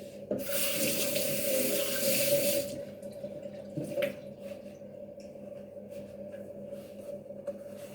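Kitchen tap running water into a sink while something is washed, a steady close splashing for nearly three seconds before it stops, leaving a quiet room hum with small drips and knocks.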